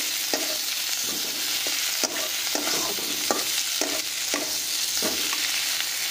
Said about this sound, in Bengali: দিয়ে আরও কিছুক্ষণ আমি ভেজে নিলাম মশলাটাকে